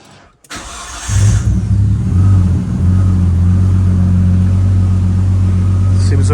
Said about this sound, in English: Let's get the key started and see how she sounds.